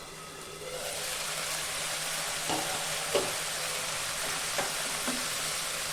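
A masala of cumin powder, turmeric, salt and Kashmiri chilli powder cooks in a pan. A continuous low sizzle is broken by a few soft knocks from stirring.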